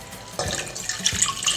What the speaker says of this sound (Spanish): Voy a agregar 3 tazas de agua.